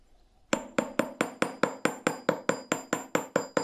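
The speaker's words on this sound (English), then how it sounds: "it's worth just getting that point started through hammering" A raising hammer strikes 2mm wire being forged to a point on a metal surface, sharp ringing metallic blows repeating in a steady fast rhythm, about a dozen close, loud hits.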